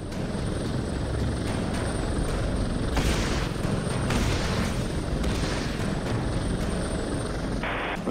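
A helicopter flies in the video game Prototype 2, its loud rotor throbbing steadily and close throughout, with a few heavier thumps mixed into the drone.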